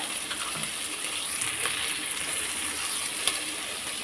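Ginger garlic paste sizzles in a hot pan for Godavari-style prawn biryani: a steady, bright frying hiss that stays even throughout, with a few small pops.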